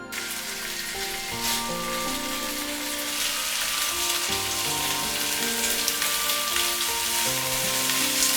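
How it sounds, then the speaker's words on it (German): Chicken wings sizzle steadily in oil in a hot pan while browning, a constant crackling hiss with faint tonal background music underneath. "Hähnchenflügel von beiden Seiten goldbraun anbraten."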